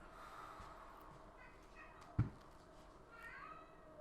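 A house cat lets out a faint, brief meow during a quiet indoor stretching session, one short call over a soft room hum, with a sharp thump just after it.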